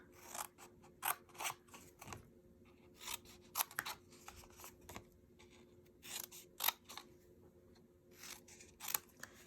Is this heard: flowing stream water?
no